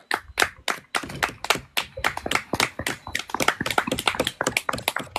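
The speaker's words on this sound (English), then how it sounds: "Round of applause for that." Audience applause, a burst of sharp, uneven hand claps from a small group, close and lively, rising into a denser patter toward the end.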